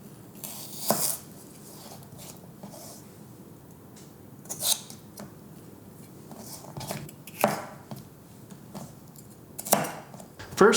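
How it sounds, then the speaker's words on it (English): A knife cuts celery on a cutting board in a few sharp, isolated strikes spaced several seconds apart, each a bright clack against a quiet kitchen background, with no one speaking. "First, cut the celery in half and then into thin strips for Julienne."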